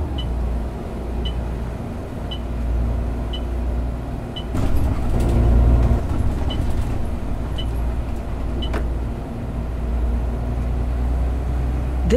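A Citybus 400 ZF bus in the OMSI 2 simulator drones steadily along London route N2, its engine rumble rising briefly midway, with faint rattles and periodic ticking in the cabin.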